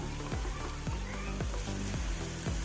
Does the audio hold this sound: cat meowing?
no